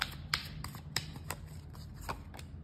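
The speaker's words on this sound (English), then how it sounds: "One more shuffle." Crisp papery riffles and snaps of tarot cards being shuffled, a few sharp flicks standing out over a low steady hum, close up and fairly quiet.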